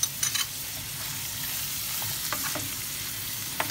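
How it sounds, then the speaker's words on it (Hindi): Spiced pizza filling with garam masala, red chilli and salt is stirred in a hot pan, a continuous close sizzle of frying with occasional scraping clicks from the spoon. "अब हम इसको अच्छी तरह मिक्स कर लेते हैं थोड़ी देर।"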